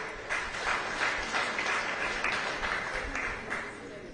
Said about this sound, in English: Let's clap for the widow.